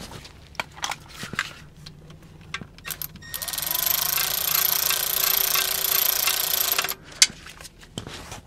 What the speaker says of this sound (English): Just snug it up with the electric ratchet.